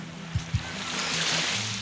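Sea waves washing in at a beach in Bolinao, Pangasinan, a broad rushing surf with wind across the microphone, two brief low thumps early on, then a steady surge.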